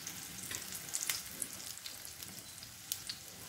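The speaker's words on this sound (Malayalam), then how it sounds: "ഒന്ന് ഫ്രൈ ആയി വരട്ടെ." A stuffed tomato omelette fries gently in a pan, a soft, quiet sizzle with scattered small crackles and pops, close but faint, no speech.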